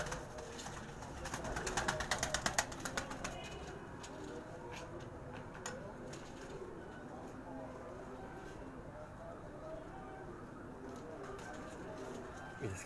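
Pigeons at a rooftop loft in Karachi coo steadily in a low murmuring chorus, with a few sharper fluttery bursts early on and someone talking over the birds throughout.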